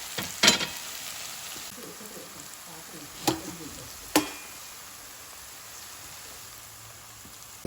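Potatoes fry in oil with fenugreek leaves in a pan, giving a soft, steady sizzle throughout, with a few sharp spatula clinks against the pan near the start and middle.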